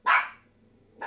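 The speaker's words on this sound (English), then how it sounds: "My dog is barking." A single sharp dog bark close by, quickly fading, followed by the start of a second bark at the very end.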